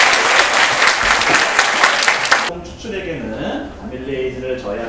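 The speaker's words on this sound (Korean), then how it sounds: "다시 한번 큰 박수 부탁드리겠습니다" An audience gives loud, sustained applause after a science lecture, the clapping cutting off abruptly halfway through as a voice begins speaking.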